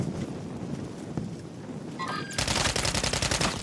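Rapid automatic gunfire in Call of Duty Modern Warfare III ranked play erupts after a couple of seconds of quieter game ambience, a loud, dense burst of close shots.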